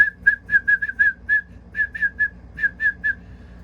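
A specklebelly goose call blown with a whistling technique gives a clear, close run of about thirteen short, high, piping notes in quick clusters with small gaps, played alone with no talking.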